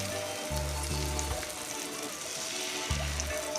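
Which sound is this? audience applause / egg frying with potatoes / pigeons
egg frying with potatoes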